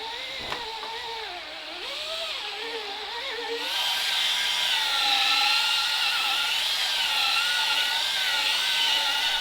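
A rotary polisher buffs polish into faded paint on an outboard motor's cowling, a steady whine that wavers in pitch early on, then settles into a louder, constant drone for the rest.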